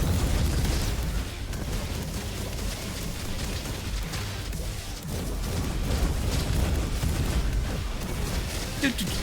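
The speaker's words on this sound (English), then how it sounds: "I was just firing to try to hit the flying enemies." Gunfire and explosions in the Roboquest video game, a dense, continuous barrage of shots and booms that fills the whole stretch at steady loudness, with a voice talking underneath.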